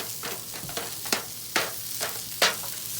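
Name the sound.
onions frying in hot seed oil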